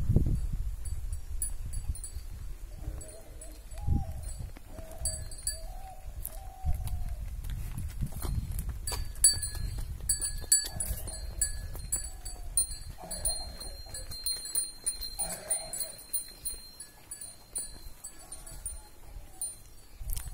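Cattle shuffle and move about near a paddy field, with soft hoof knocks, rustling and a faint bell-like tinkling against a quiet rural background; occasional low voices are heard.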